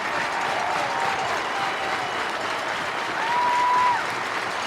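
Crowd at a college baseball game between Alabama and Mississippi State in Starkville applauds and cheers steadily, a broad wash of clapping that swells near the end, with a faint whistle rising above it.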